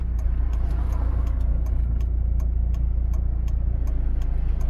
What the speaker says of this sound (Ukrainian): ми вмикаємо покажчик повороту.